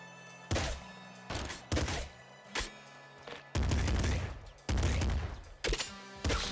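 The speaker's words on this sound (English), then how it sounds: "Machine gun actually shoots straight." Machine gun fire in the top-down shooter Nuclear Throne: several loud bursts of rapid shots separated by short pauses, with the longer bursts falling in the second half.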